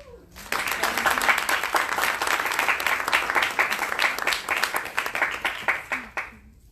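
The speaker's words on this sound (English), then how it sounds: "Let us give a round of applause for this knowledgeable woman" A conference audience breaks into applause for a speaker, many hands clapping densely for about six seconds before thinning into a few distinct claps and stopping.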